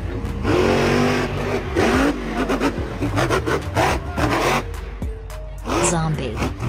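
Zombie monster truck with an undead theme, its engine revving loudly in repeated surges and roars at an arena event, with a voice talking over it.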